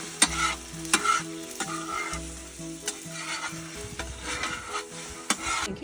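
Eggs cooking on a Blackstone griddle with the heat turned off, a steady close sizzle punctuated by sharp spatula taps and scrapes on the metal surface.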